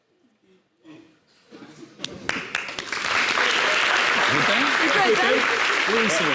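Applause from a television studio audience on a talk show, starting with scattered claps and swelling into steady, sustained clapping, with a brief spoken exchange at the start.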